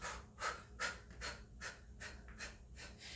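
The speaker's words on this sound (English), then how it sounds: "And you're breathing with those punches." Rhythmic sharp exhalations from someone doing sumo squat punches in a wide stance, about eight quick panting breaths in a steady beat, close and faint.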